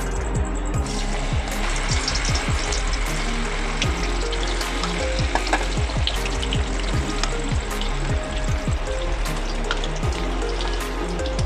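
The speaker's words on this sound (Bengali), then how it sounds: "তেলটা গরম হয়ে গেছে, এবার সয়াবিনগুলোকে ভেজে নেব।" Soybean chunks fry in hot oil for a chili soybean dish, giving a steady, dense sizzle with crackling pops and occasional spatters throughout, close and fairly loud with no talking.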